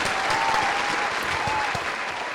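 Podcast studio applause for a host being introduced, a steady, dense clapping sound that runs the whole clip at an even level, with faint voice traces under it.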